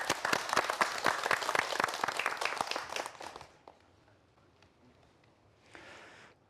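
Audience applause at a Korean televised science lecture on quantum mechanics: a dense burst of clapping for about three seconds that fades quickly, followed by quiet and a short faint rustle.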